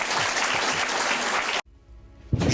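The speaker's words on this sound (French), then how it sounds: "Applaudissez bien pour le Seigneur." An audience applauds loudly in a church service, a dense burst of clapping that stops abruptly, leaving near quiet before a brief renewed surge at the end.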